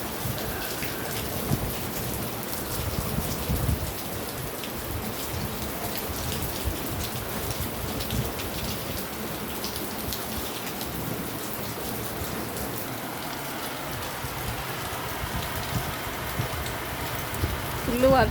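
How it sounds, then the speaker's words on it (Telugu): Heavy rain driven by gusty wind pours steadily onto surfaces nearby, a dense constant hiss and patter with rumbles of thunder, and voices faintly present beneath it. "గాల్పు దుమారంతో ఫుల్ వర్షం పడుతుంది."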